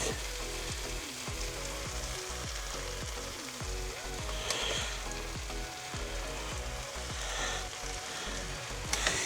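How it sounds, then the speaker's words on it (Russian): Steady sizzling of onions and flour frying in a soup pot, with occasional stirring clatter, continuous and fairly close throughout. "карамелизация у нас хорошо здесь идет."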